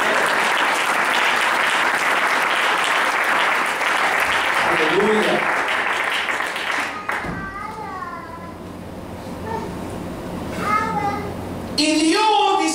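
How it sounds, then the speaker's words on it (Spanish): A church congregation fills the room with dense, sustained applause for several seconds, which then fades away as a voice and a voice speak with some lingering claps and room noise. "Ofrenda de aplausos."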